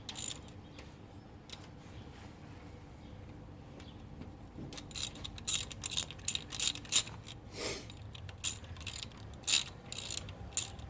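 A hand ratchet clicks in quick bursts while snugging bolts on 5.3 V8 cylinder heads, with short sharp pawl runs and pauses, close up in a quiet garage.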